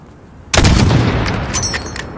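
A single loud sniper rifle shot in the video game Call of Duty Modern Warfare, a sudden sharp crack followed by a long rumbling echo and faint rattling.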